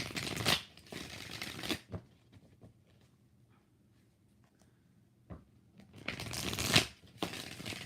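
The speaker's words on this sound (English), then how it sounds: "5 shuffles for Celia" Tarot cards riffled and shuffled by hand at close range: two quick papery bursts open the clip, a quiet stretch follows, then another brisk shuffle near the end.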